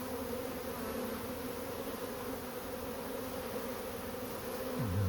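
Swarm of bees buzzing close by at a hive entrance, a dense continuous drone of many wings that stays level throughout, with a low hum shifting near the end and no speech.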